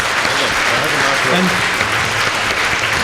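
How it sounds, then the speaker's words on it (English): Conference audience at a science panel discussion in Berlin gives the panel a final round of applause: dense, loud, continuous clapping through the whole stretch, with a brief spoken word under it. "I would like to ask you for a final round of applause for our panel."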